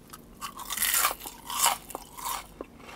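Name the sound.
crunching curly fries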